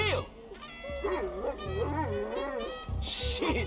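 Chop the Rottweiler in GTA V story mode yips, whimpers and gives short barks, close and lively, mixed with human voices talking over him.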